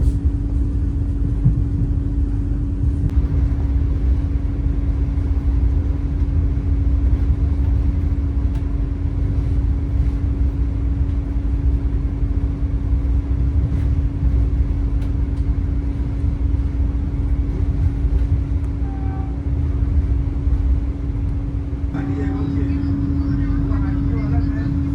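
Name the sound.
Vande Bharat train running from Udupi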